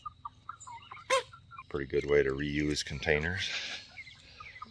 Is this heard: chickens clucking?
yes